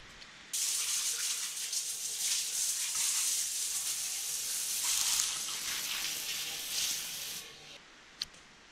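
Shower water runs steadily in a bathroom in Berbera, Somaliland, a dense close hiss that holds for about seven seconds and then cuts off, followed by a brief knock.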